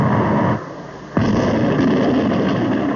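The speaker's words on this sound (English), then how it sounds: "This is an atomic cannon of 30 years ago." An atomic cannon fires a single massive artillery round, a sudden deep blast that cuts through a steady rumbling background and leaves a long, loud roar afterward.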